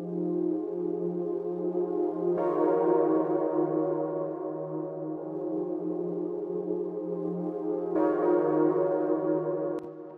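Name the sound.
digital synth with added analog warmth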